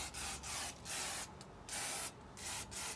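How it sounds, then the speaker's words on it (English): Short hissing bursts from an aerosol can of brake cleaner sprayed onto BMW E90 brake calipers, about six in a row with brief pauses, close and steady. "get your brake cleaner and spray."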